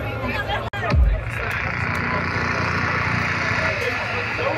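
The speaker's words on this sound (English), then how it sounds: "What a crowd!" Crowd babble at the Drumcode Festival 2019 in Amsterdam, a dense hubbub of many voices over a low mechanical rumble, with a sharp thump near the start and a steady wash of noise after.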